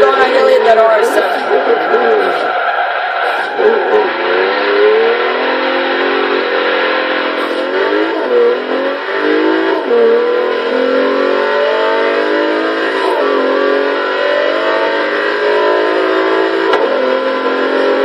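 Engine note of a 2015 Bentley EXP 10 Speed 8 Concept in the Forza Horizon 3 racing game, a steady loud drone rising and falling through gear changes for the whole stretch, with a voice talking over it.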